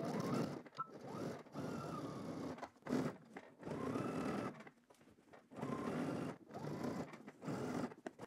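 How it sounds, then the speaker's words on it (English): A sewing machine edge stitches along fabric in several bursts of rapid whirring separated by short pauses, close by and moderately loud. "Okay, so now I'm going to edge stitch all the way here."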